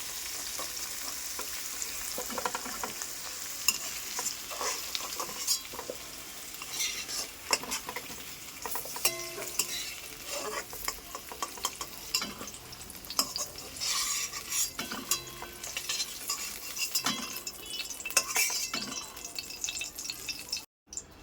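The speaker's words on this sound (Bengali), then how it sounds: "এঁচোড়টা আমি ভেজে হালকা করে ভেজে তুলে নিচ্ছি।" Green jackfruit pieces fry lightly in hot oil with a steady, soft sizzle, joined by frequent scraping stirs and light clinks of a utensil against the pan.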